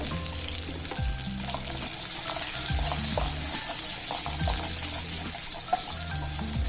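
Chopped onion, garlic and ginger frying in a pan, a continuous bright sizzle and hiss with a few stirring knocks and scrapes scattered through, close and steady.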